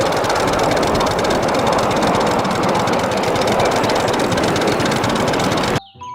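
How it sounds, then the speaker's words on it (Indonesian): Continuous mechanical rumble and rattle of a toy train locomotive, loud and close, holding a steady churning drone before cutting off abruptly near the end. "Keluarlah kereta api lokomotif."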